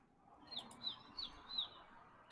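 A person imitates bird chirps with the mouth, producing four short high whistled tweets in a row, faint and fairly close, ending with a sudden sharp click.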